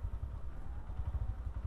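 Scooter engines idle and rumble at a busy scooter festival in Simpang Lima, Kediri, a steady, low, throbbing drone with some clatter, heard close and continuous.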